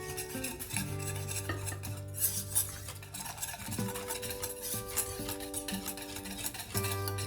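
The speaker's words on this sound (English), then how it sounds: "Then blend the flour in, gradually blending to a smooth caramel-coloured paste." Flour is stirred into scooped gravy liquid in a bowl to make a smooth paste for vegetarian gravy, with soft scraping stirs running under steady background music.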